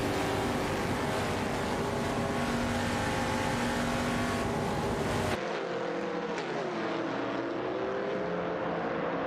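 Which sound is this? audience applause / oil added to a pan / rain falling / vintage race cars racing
vintage race cars racing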